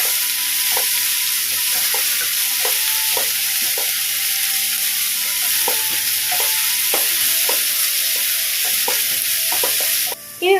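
Bitter gourd thoran with chilli powder is stirred in a pan over a constant frying sizzle, with regular spoon scrapes and taps against the pan close up; no voices.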